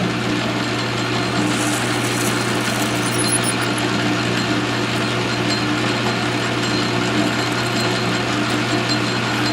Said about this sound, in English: just drill that sucker out